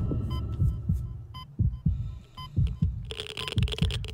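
A heavy, muffled heartbeat pulses steadily in Dead Space, its low thumps repeating in a regular rhythm over a dark ambient hum, with a brighter tone joining near the end.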